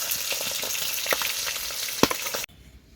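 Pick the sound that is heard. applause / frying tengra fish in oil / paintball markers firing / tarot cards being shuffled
frying tengra fish in oil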